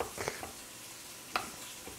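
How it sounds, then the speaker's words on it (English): Meat searing on a stovetop for braised short ribs gives a quiet, steady sizzle with a few sharp crackles and pops, heard alone without talk. "we got the meat over there on the stove searing away"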